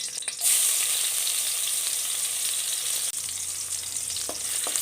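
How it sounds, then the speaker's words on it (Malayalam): Crushed ginger and garlic fry in a tablespoon of hot coconut oil with a loud, steady hiss that starts suddenly and holds throughout. A brief clink of utensils sounds near the end, and there is no talk. "ഒരു ടേബിൾ സ്പൂൺ വെളിച്ചെണ്ണ ചൂടാക്കാൻ വെച്ചിട്ടുണ്ട് അതിലേക്ക് ഇഞ്ചി ചതച്ചതും ഒരു ചെറിയ കഷ്ണം ഇഞ്ചി ചതച്ചതും ഒരു മൂന്നാല് അല്ലി വെളുത്തുള്ളി ചതച്ചതും കൂടെ ഇട്ട് കൊടുക്കാം"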